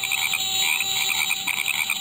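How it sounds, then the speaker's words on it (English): Frogs croak continuously in a swamp after dark in a radio drama sound effect, a dense, steady chorus of overlapping calls with no voices. "What with frogs and insects, my swamp was a real noisy and busy place after dark."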